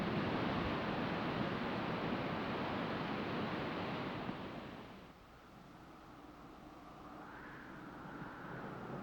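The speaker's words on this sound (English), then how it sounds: "there is the primal force of the ocean tides" Ocean tides and surf as a broad, steady roar of rushing water that dominates at first, then drops to a softer, hissing wash with some wind, continuous and without talk.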